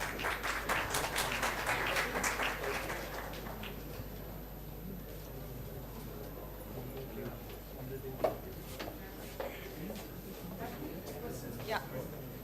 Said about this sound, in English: A big round of applause for Anu